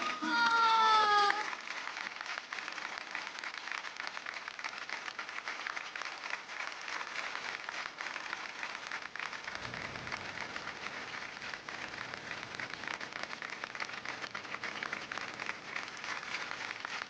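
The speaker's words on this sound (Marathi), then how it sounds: "आपल्या गायत्रीच्या आजीसाठी एकदा जोरदार टाळ्या" Audience applause on a Marathi TV show stage, dense steady clapping from a crowd that carries on at an even level for many seconds, with a brief voice at the very start.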